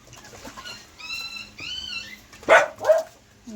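Puppy yipping outdoors, a few high whiny yelps followed by two sharp louder barks near the end, fairly close and alone without talk.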